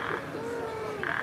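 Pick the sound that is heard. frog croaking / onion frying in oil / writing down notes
frog croaking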